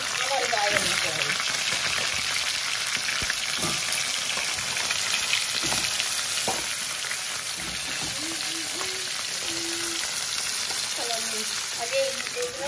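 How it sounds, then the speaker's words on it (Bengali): Sea crab pieces frying in hot mustard oil, a dense, loud and continuous sizzle that a voice talks over at times. "আগে এগুলো ভেজে নিই, লাস্টে এগুলো ভাজবো"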